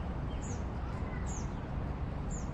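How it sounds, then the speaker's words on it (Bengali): Brief high bird calls sound three times, small and somewhat distant, from trees in a shaded green park at Al Qasba, over a steady broadband background hum. "গাছে পাখিগুলো ডাকছে।"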